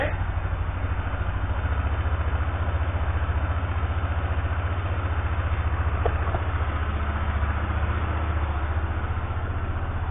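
A Yamaha XTZ Ténéré motorcycle engine idles steadily at close range with a low, even putter and no other sounds or talk.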